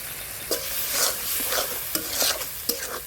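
Ground spices, cashews, bay leaf, ginger and green chilli paste frying in oil in a wok for Kashmiri aloo dum, a loud close sizzle with regular scraping stirs about every half second and no talking.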